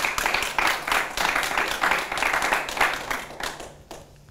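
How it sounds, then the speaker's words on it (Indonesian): Applause from a group of listeners, lively clapping in rhythmic surges that fades out toward the end, fairly close and heard alone. "Boleh suruh tepuk tangan gak nih Pak?"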